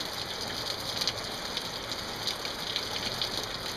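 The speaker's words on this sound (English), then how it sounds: "Yes, it's raining." Rain falls in a steady, even hiss with light, scattered drop taps and no voices, holding a constant soft level throughout.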